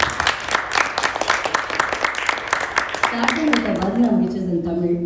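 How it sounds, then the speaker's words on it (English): Concert audience at a Carnatic music performance claps briskly in a sharp, uneven burst that thins out after about three seconds as a sustained tonal instrument note and a voice come in. "A big round of applause to the guru who created today's concert"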